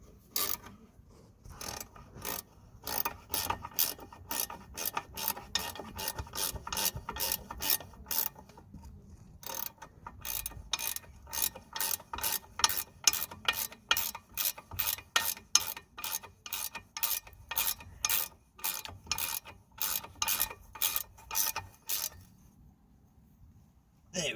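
Ratchet wrench clicking steadily as a wheel hub bolt is tightened on a Jaguar XF, with rapid rhythmic ratchet clicks running through most of the stretch, a short pause partway, then faster clicking close up.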